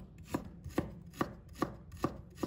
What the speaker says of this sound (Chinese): 再准备1块去皮的生姜，把它切成片，